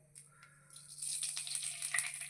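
Mustard seeds, cumin, chana dal and urad dal dropped into hot oil for a mushroom curry tempering, a soft crackle that swells into a steady, faint sizzle after about a second.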